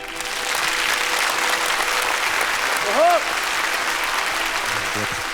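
A television studio audience applauds steadily throughout, a dense even wash of clapping from many hands, with a brief voice and other sounds rising over it near the middle and the end.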